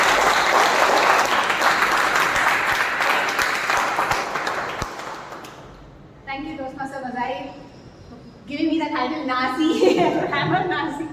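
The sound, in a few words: audience applause welcoming a speaker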